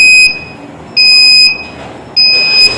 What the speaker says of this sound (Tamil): இப்போ பஸ்ஸர் சவுண்ட் அடிக்குது.